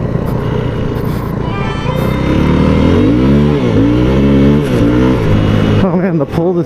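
A Yamaha WR250F dirt bike engine revs hard on a dirt track, its loud, close tone climbing and dipping in repeated pulls before cutting back near the end.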